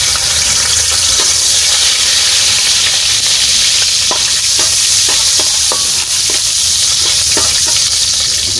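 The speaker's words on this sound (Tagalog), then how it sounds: "Lagyan na natin yung bawang." Garlic frying in oil in a pan, a loud, steady, close sizzle that fills the whole stretch, with occasional spatters and stirring scrapes.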